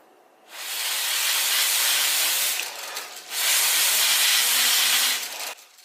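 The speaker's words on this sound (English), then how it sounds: "Interestingly, even just blowing these blades seems to be good enough." Breath blown onto the blades of a Lego generator makes two close, loud, breathy rushes of air, each lasting a couple of seconds with a short pause between them.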